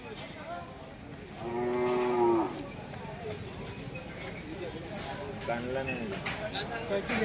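A Khillar bull moos in a long, loud, low call at close range at a bull market in Narkhed, with crowd chatter and market bustle running underneath throughout.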